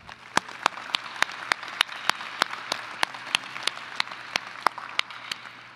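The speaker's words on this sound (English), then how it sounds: "Can we give them another round of applause?" Applause from the audience at a UW–Madison winter commencement ceremony in a large hall: a steady wash of clapping with sharp, regularly spaced individual claps standing out near the front, without voices.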